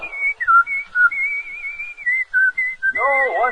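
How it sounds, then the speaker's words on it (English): A man whistles a lively, wavering tune nearby, a run of clear sustained and sliding notes with short breaks, heard alone in a 1957 baseball radio broadcast. "No wonder he's whistling."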